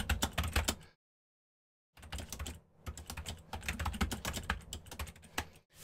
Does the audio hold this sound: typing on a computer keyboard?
yes